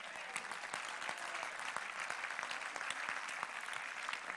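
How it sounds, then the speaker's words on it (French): Applause from an audience at a Christian conference on the Holy Spirit, a dense, steady clatter of many hands clapping throughout, with no speech over it. "On peut acclamer le Seigneur pour ça."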